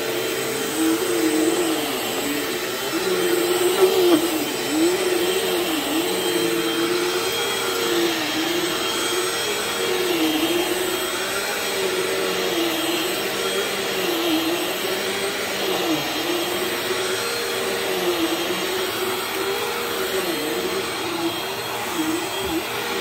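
A brand-new 2024 Bissell vacuum cleaner with a motor giving off a burning smell runs steadily and close by, a continuous loud whine with a wavering tone, alone without talk.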